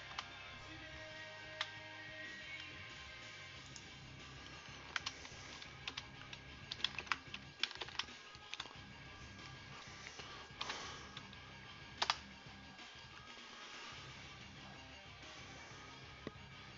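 Quiet, close tapping on a computer keyboard while setting a root password during an Oracle Linux install in a virtual machine, with irregular clicks and a few sharper key strikes over a steady hum.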